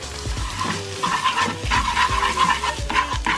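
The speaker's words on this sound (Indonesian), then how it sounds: "Kita aduk deh." A salted egg stir-fry sizzles in a pan while being stirred, with close, rhythmic scraping of the utensil against the pan over continuous frying crackle.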